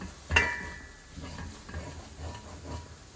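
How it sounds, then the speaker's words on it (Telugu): Coriander powder is stirred into hot oil in a steel pan while cooking an arbi curry, with a sharp metallic scrape at the start, then soft sizzling and faint intermittent stirring scrapes, close and fairly quiet. "అడుగంటకుండా బాగా కలుపుకోవాలి"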